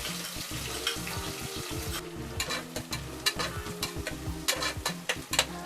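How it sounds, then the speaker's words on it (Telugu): Long-sliced onions go into hot oil with cumin seeds, crackling and sizzling while a utensil stirs with frequent scraping knocks, all under soft background music. "తర్వాత పొడవుగా తరిగి పెట్టుకున్న ఉల్లిపాయలని వేసుకోవాలి."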